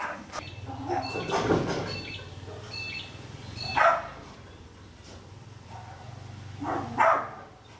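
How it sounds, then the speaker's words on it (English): A dog barks in repeated loud bursts at the postman, sharp yaps at about four and seven seconds over a steady low hum, with no talk. "my dog's going off his brain. He does not like the postman."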